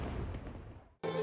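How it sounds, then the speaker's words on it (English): Fireworks burst over the Han River at the Danang International Fireworks Festival competition, a loud rumbling boom decaying over about a second before another sharp blast cuts in. "night of the fireworks competition between the American newcomer and the 2-season champion from Italy brought a spectacular performance on the banks of the Han River"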